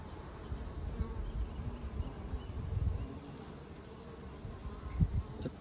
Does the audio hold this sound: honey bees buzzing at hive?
yes